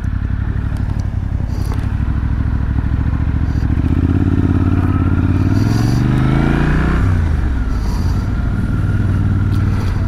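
Motorcycle engine loud and close while riding through busy city traffic, a steady throbbing idle rising into a revving acceleration and then settling back, with passing traffic noise.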